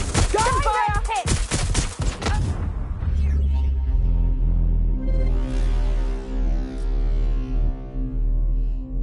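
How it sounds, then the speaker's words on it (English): Gunfire in the video game Watch Dogs Legion: a rapid burst of loud shots at the start, followed by a deep, sustained droning rumble and music-like game sound with no further shots. "Shots fired! Shots fired!"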